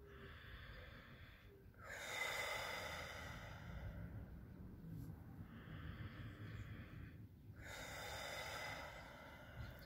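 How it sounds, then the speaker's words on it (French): A person breathes slowly and deeply during a gentle diaphragm release exercise, three long audible exhales and inhales with soft breathy sighs, close and quiet, separated by brief pauses. "on écoute la respiration, ça c'est très efficace"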